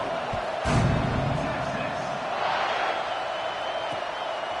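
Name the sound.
football stadium crowd buzzing before kickoff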